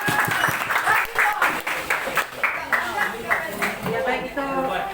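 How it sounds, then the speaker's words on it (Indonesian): An audience at a school workshop on positive school culture claps in a quick, rhythmic series of bursts lasting several seconds, with voices mixed among the claps. "Tepuk tangan untuk kita semua."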